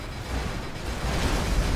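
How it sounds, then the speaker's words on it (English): Continuous heavy rumble of explosions from GTA V Online tank gameplay, a dense, loud low-frequency roar building slightly louder toward the end, with no distinct separate blasts. "Explosions."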